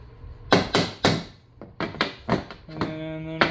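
Sharp taps and knocks sound on a ski while screw holes for a Pivot binding mount are tapped. About ten separate hits come in an uneven rhythm, close and fairly loud, with a brief ringing tone near the end.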